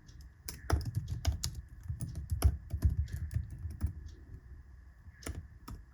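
Computer keyboard typing while entering commands during an Arch Linux setup, a dense, uneven stream of sharp clacks at moderate volume over a faint steady hum, with no talking.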